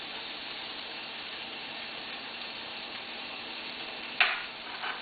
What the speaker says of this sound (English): I will be sauteing my vegetables. So, I will add 2 spoons of oil. And then, I'll be adding in my onions.